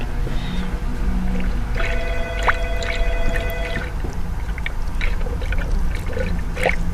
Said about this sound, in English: as you squeeze, we can see bubbles coming through the funnel up here